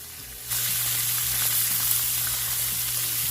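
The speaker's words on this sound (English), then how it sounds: "Make sure guys you sear the short ribs on each of the 4 sides for about a minute per side." Beef short ribs sear in a hot pan: after a half-second lull a loud, dense sizzle bursts in and holds steady and close throughout, with no voices.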